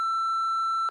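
Sustained steady censor beep tone running nearly a full second, loud and clean with no audible speech beneath it, cutting off abruptly at the end.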